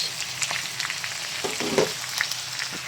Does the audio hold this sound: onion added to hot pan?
yes